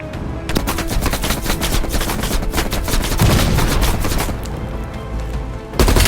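Machine gun fire from the video game Call of Duty Black Ops Cold War, with loud, continuous rapid bursts and dense overlapping gunshots throughout, and a heavier blast at the end.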